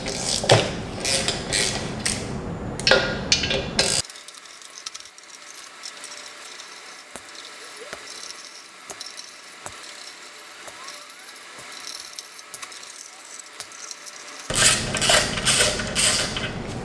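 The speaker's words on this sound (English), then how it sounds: "We'll need a 12mm socket for this one. And it's gonna be 9 bolts." A 12mm socket ratchet works on clutch bolts of an SR20 engine: quick bursts of close, sharp rhythmic clicking at the start and end, with a quieter stretch of sparse ticks and clinks between.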